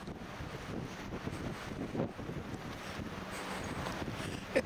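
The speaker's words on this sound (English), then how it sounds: "It's windy, but not overly cold. Kind of a nice wind." Steady wind at Loch Sport buffets the microphone with a continuous rushing roar, gusting louder at moments, with no voices.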